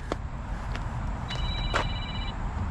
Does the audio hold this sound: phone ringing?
yes